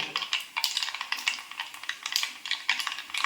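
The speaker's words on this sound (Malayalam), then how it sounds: "നമ്മുടെ കടുക് പൊട്ടട്ടെ" Mustard seeds spluttering and popping in hot oil, a dense irregular crackle of sharp little bursts, close and continuous.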